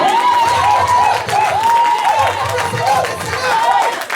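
A church congregation cheers and applauds Jesus with loud sustained clapping and raised voices, and a voice rings out over the crowd throughout.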